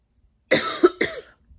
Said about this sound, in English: Ugh, my cough, I swear.